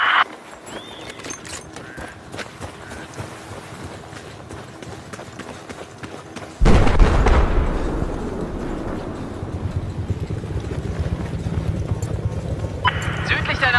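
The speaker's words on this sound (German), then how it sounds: "Feindlicher Helikopter!" A helicopter's rotor chop in Battlefield 4 thumps steadily, growing sharply louder halfway through and staying close and loud, with a voice speaking over it.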